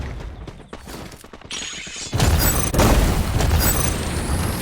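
A deep booming blast from an explosive trap in the game Free Fire erupts midway and roars on with a crackling rumble, following lighter clicks and thuds; loud and close.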